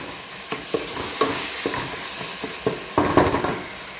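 Tomatoes sizzling in a pan for a mackerel fish curry, a steady frying hiss broken by several soft scrapes and clinks of stirring.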